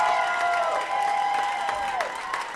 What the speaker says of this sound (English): You are judging by audience applause.